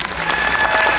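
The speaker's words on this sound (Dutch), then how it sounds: "Jullie applaus, dames en heren, voor Rani" Loud, close applause for a finalist at a Miss Wellness Beauty pageant, a brief, dense burst of clapping with no voices over it.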